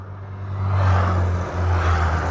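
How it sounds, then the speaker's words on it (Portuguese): A motorcycle passing behind on a road, a low droning engine hum with a steady pitch that rises in loudness toward the middle and stays fairly close throughout. "Tem mais outra moto lá atrás."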